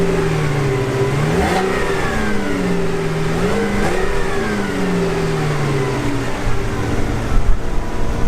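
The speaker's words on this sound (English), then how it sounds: "But let's give this engine a listen." A 2017 Buick Enclave engine revs up and falls back in repeated close blips, pitch swelling and dropping each time, then settles into a steady hum with no talk.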